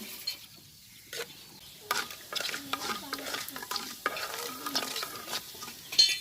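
Fenugreek and mustard seeds crackle in hot coconut oil in a large pot, with close, irregular sputters and pops, plus bursts of spoon stirring and scraping against the metal.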